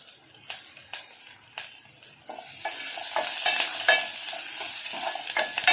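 Curry leaves drop into hot oil for a drumstick-pod amti tempering: a soft clinking stir gives way to a sudden, steady loud sizzle that crackles on to the end, with no talking.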